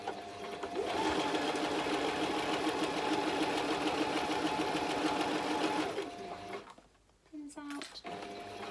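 Sewing machine back stitching a drawstring bunny gift bag, a fast, steady mechanical whirr lasting about five seconds before it stops, then a little handling noise and a brief voice.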